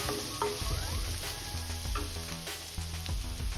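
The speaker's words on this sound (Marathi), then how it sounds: "आता या स्टेजला आपण हळद ऍड करून घेऊया त्यानंतर लाल मिरची पावडर एकदा सर्व साहित्य मिक्स करून घ्यायचं" Turmeric and red chili powder are stirred into a frying masala for stuffed idli, giving a constant bright sizzle with occasional stirring knocks, all under a steady bed of background music.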